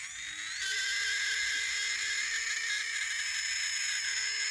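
A Hobbywing Puller Pro 3500 kV brushless motor with worn bearings runs on a bench, a sharp whine jumping up in pitch then settling into a steady, slightly rough hum.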